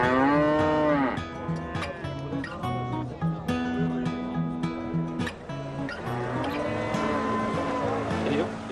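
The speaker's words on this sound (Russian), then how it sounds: "Да, ведь это отличная корова" A cow in Albania lets out loud, drawn-out moos, several calls in a row at close range, with people talking over part of it.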